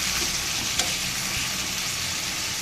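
Broccoli and new potatoes fry in a pan with a dense, even sizzle close up, and one brief clack of a utensil partway through.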